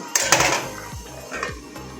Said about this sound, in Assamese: এতিয়া মই ঢাকনটো মাৰি দিম।